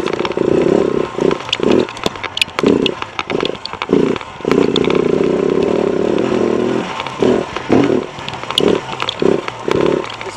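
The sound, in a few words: KTM 690 motorcycle engine lugging in second gear off-road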